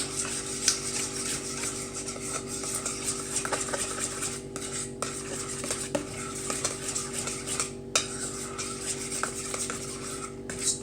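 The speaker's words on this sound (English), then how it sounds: "Then you're going to stir it." Deviled egg filling stirred in a bowl with a utensil, a steady soft scraping and clinking that runs continuously at close range over a low background hum, with no voices.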